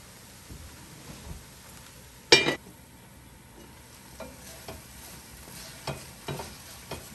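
Kale and potatoes cook in a covered pot, giving a faint, low crackle and sizzle, with one sharp clank of metal partway through and a few soft knocks.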